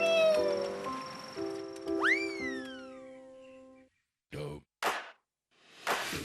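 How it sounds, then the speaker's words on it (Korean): Cats in a century-old rural house in Yesan, South Chungcheong, Korea, give a few rising meows over quiet indoor background, followed by short rustling bursts. "이 집에는 저 말고도 고양이가 3마리가 있거든요"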